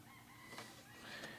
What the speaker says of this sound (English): excuse the freaking stupid rooster over there